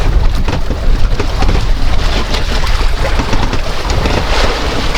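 Fishing boats out on rough water off Baler with a strong current, a loud continuous rush of wind, water and engine rumble buffeting the microphone, with no voices.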